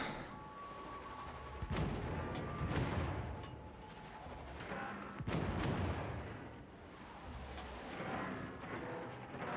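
Heavy naval guns boom in a warship battle game against a Minotaur cruiser, several loud deep blasts with rumbling tails over a constant roar of engine and sea noise.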